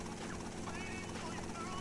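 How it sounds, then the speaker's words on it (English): Helicopter in GTA Vice City Stories, a dense, continuous rotor and engine drone with a fluttering pulse, loud and close, steady throughout under faint game sounds. "I'm in a helicopter."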